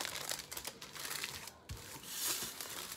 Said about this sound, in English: I'm gonna wrap the foil